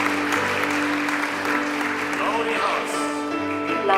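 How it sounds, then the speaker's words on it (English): Audience applause at a TalTech academic ceremony, a steady broad clatter of clapping across the hall with sustained tonal music or voices running underneath. "To give a big round of applause"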